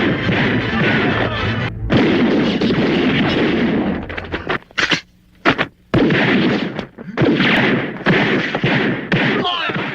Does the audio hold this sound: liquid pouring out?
no